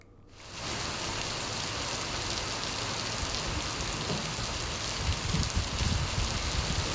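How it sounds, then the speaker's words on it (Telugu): Steady rain pours down in an even, dense hiss that swells in after a brief quiet start and holds at constant strength throughout, with no voices. "వర్షం కురిసింది"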